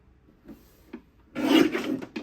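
A paper trimmer slices through cardstock for a scrapbook page kit, a single close rasping cut lasting about a second after a few faint taps and rubs.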